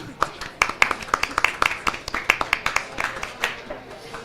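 A small audience claps in a brief round after a quiz question, sharp individual claps in a loose, uneven rhythm, fairly close, with faint voices underneath.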